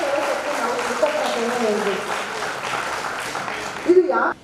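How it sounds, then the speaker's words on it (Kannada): Applause from an audience at a Kannada poetry event, a continuous patter of clapping running under a speaking voice for several seconds. "ಇನ್ನೊಂದು ಚಪ್ಪಾಳೆಯ ವರ್ಷ"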